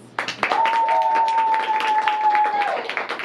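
Audience at a live anime-themed improv comedy show at a playhouse claps in a scattered round of applause, with a steady high whistling tone running through most of it.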